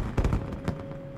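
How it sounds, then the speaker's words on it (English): Fireworks bursting in the Fallout: New Vegas Dead Money game, a few quick pops and crackles in the first second, then a single softer burst, fairly faint over a steady tone. "Oh, we have fireworks."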